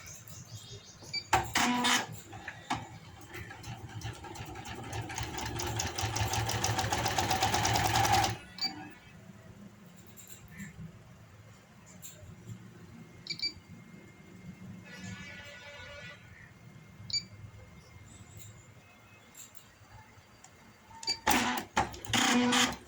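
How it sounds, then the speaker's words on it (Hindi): A sewing machine stitches palazzo pants in a long, fast, steady whirring run that stops abruptly, followed by quieter handling clicks and a short second burst of stitching near the end. "यहाँ से पोंचे की तरफ से मैं इसकी स्टिचिंग शुरू कर रही हूँ।"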